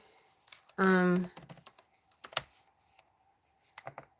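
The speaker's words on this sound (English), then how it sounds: "let me type something in" Typing on a computer keyboard gives a quick flurry of sharp key clicks in uneven bursts, separated by short pauses, close and fairly quiet, with a voice briefly heard.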